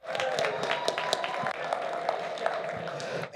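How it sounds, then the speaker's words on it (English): Applause and clapping from the audience at a kidney donation poetry slam, a continuous, moderately loud patter of many hands that ends abruptly. "Everyone clap it up for NKF."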